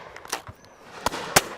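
Shotgun shots on a driven game shoot on a hillside estate, a few sharp cracks at mid distance, the two loudest near the end, with faint fainter reports between.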